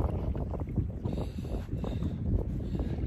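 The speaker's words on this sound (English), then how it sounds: "Can't be afraid of this wind sometimes." Steady wind rushing and buffeting across open water around a small fishing boat on a fall blue-catfish outing, a continuous low roar with microphone gusts throughout and no talking.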